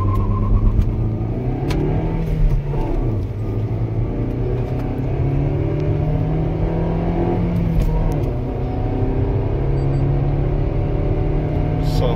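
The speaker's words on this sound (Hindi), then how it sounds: "आज हम करने वाले हैं ब्रेजा की 0 to 100 की टेस्टिंग कितनी देर में जाती है" A 2022 Maruti Suzuki Brezza petrol car accelerates hard from a standstill toward 100 km/h, its engine droning loud and steady from inside the cabin, with pitch rising and dropping through gear changes.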